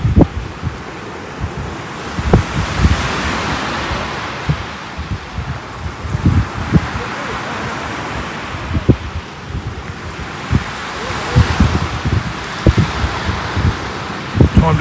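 Small waves washing onto a shingle beach at Kessingland under a cold northerly wind, irregular soft breaks and surges mixed with gusty wind buffeting the microphone.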